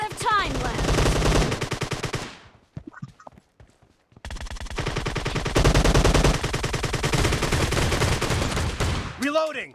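An M1014 shotgun fires again and again in a PUBG Mobile team deathmatch: loud, rapid, evenly spaced shots in two long runs broken by a short quiet gap, with a few faint clicks in between.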